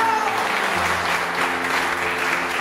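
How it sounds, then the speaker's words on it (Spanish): A strong round of applause from the audience at a Christmas gathering for seniors in Pachacutec, honouring Kimberly; loud, dense clapping runs continuously throughout, with a low musical hum beneath. "Y vamos a brindar un fuerte aplauso a Kimberly y gracias a ella."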